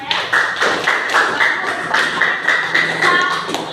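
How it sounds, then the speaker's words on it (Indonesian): A classroom of students claps hands in a rhythmic, evenly spaced pattern, loud and close, with a faint tonal hum running underneath. "Kasih tepuk tangan kita semua ya."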